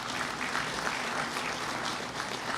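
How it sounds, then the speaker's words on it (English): Audience applause at a university research conference, a steady, moderately faint wash of clapping from a seated crowd, sustained evenly throughout. "So a huge applause for the Greater Noida campus."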